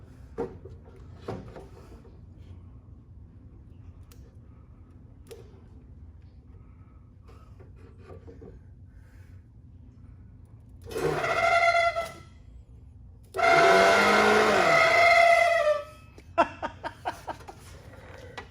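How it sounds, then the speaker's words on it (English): The old fan motor in a '53 Chevy whirs to life in two short bursts, a rising buzzing hum each time, close and steady, with faint clicks and handling noises before and after. "Let's find out if the fan motor still blows."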